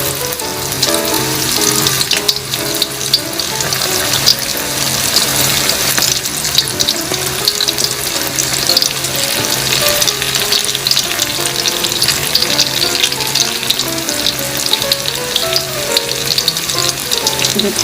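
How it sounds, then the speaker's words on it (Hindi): Small Chinese pakoras fry in a kadhai of oil over medium-low heat, giving a loud, continuous crackling sizzle with bubbling that stays steady throughout, with no talking. "छोटे छोटे पकौड़े हमने इसमें डालने और मीडियम टू लो हीट पे हमने इनको फ्राई करना"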